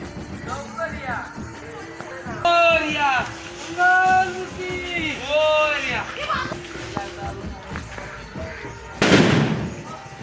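Firecrackers burst during a Ganesh Chaturthi celebration, with one loud sharp blast near the end after a stretch of excited voices and shouting.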